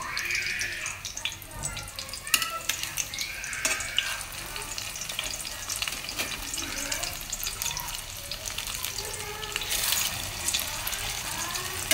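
A squash omelette sizzles and fries in a pan, a continuous crackling hiss with scraping and stirring clatters, while a person talks intermittently over the cooking.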